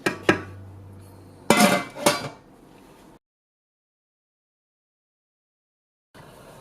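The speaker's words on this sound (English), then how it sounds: "You make sure you cover the pot." A lid goes onto a cooking pot of simmering jollof sauce: a few sharp metallic clanks and rattles up close, followed by silence.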